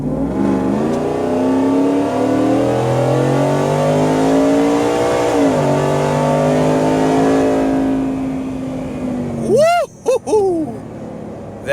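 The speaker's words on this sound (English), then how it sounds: "The sound that this 5-liter makes with the Whipple, you can't beat it." A Factory Five Bullet XTF truck with a 5-liter Whipple-supercharged engine accelerates hard, its loud supercharger whine and engine note climbing steadily through several gears, ending with sharp shift barks and brief rising squeals.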